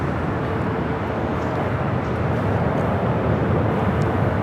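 Steady broadband roar of an American Airlines Airbus A321neo jet at LAX, loud and continuous with no break, no voices heard.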